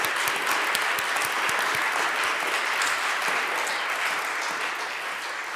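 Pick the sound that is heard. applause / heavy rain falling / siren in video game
applause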